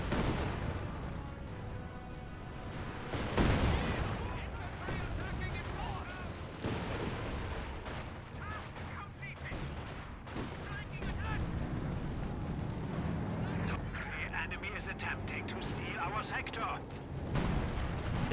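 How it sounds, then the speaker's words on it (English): An M1 AT gun fires tungsten sabot rounds amid a Company of Heroes 2 battle, with booming cannon shots and explosions over a dense, continuous din of gunfire. A commentator talks throughout. "M1 AT gun firing some shots with the Sabot rounds"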